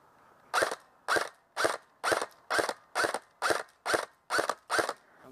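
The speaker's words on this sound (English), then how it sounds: "we're going to shoot 10 rounds on semi-auto" A King Arms airsoft M4 rifle with a 120-round mid-cap magazine fires ten sharp, close shots on semi-auto, each crisp pop evenly spaced about half a second apart with quiet gaps between.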